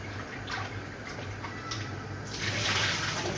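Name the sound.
washing sweet potato under running water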